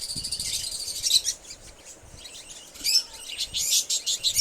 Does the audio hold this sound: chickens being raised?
no